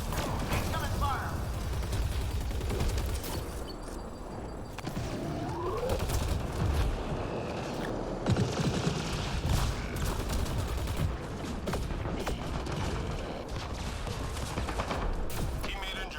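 Gunfire in Mass Effect Andromeda multiplayer: a constant rattle of weapon fire and mechanical clicks in a busy firefight, with game voice callouts speaking over the steady, moderately loud action.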